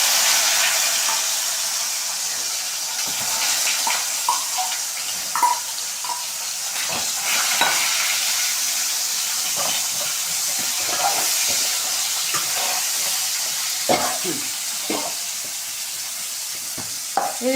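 Raw plantain slices fry in hot oil and are stirred now and then, giving a continuous close hiss and sizzle broken by soft scraping clatters.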